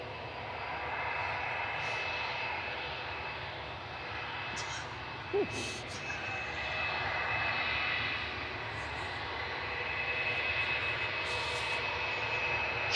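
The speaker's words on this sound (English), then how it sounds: "Shuttle 3 Papa departing next with flight 1387 down to London Heathrow." A British Airways Shuttle jet departs Manchester for London Heathrow, its engines making a steady, moderately distant roar with a thin high whine, while occasional faint clicks and bumps sit on top.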